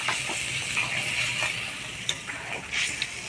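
Fish curry simmering in a pan beside mustard paste being stirred with a little water, a steady soft sizzle and bubbling hiss with light scraping stirs and a few small clinks, close up and without talk.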